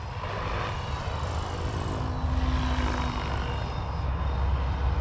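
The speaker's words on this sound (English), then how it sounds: "The Kraken's such a great flying helicopter." A Kraken RC helicopter flies at a low head speed of about 1500 RPM, giving a steady, continuous rotor and motor drone with a broad rumbling hum that holds at an even loudness throughout, with no talking.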